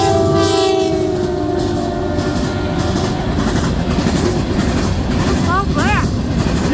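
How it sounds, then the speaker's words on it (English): A CN freight locomotive, a rebuilt C6M, sounds a distinctive chime horn loudly at the start, then rumbles past with clattering cars and a couple of short squeals near the end. "Distinctive horn on this one."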